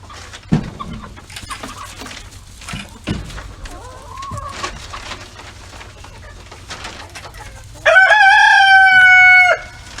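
Backyard chickens cluck and peck intermittently around a coop, then a rooster crows loudly and close for a couple of seconds near the end.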